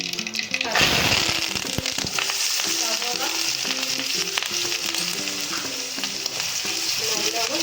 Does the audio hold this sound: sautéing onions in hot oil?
yes